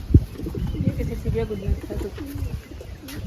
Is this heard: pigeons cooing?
yes